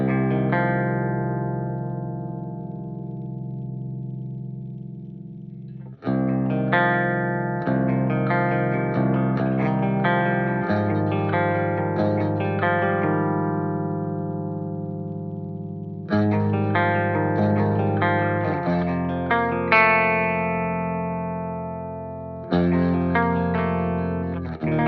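Electric guitar run through a chorus effect block set as a widener, slow rate, deep depth and half mix, playing sustained chords that ring out and change every few seconds, shimmering and spacious with no talking.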